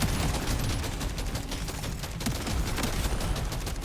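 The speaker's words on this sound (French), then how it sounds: "Le seul problème du fusil à pompe, c'est qu'il tire que devant." Rapid, continuous shotgun fire from the Deep Rock Galactic Survivor video game, a dense layered volley of blasts with bass thumps running unbroken through the whole stretch, loud and up close, with no speech.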